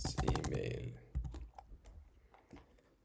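An email is typed on a computer keyboard, a steady run of close key clicks that thins into sparser taps, with a voice speaking at the beginning.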